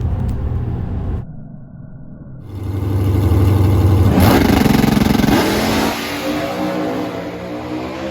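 A Dragpak drag race car on a qualifying pass at an NMCA event in Rockingham: a loud engine roar that climbs and holds at full throttle, then drops off, with no talking.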